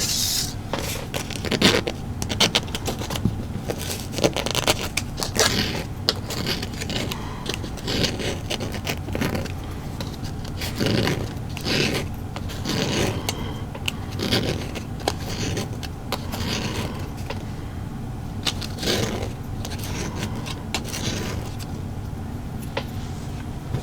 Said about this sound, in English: these gears need to be sanded and waxed, as well as the dowel rod